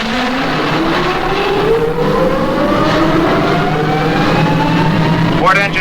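A Supercar's port engine winds up steadily, its pitch climbing in a long smooth rise under a constant roar, with a brief higher whine at the end.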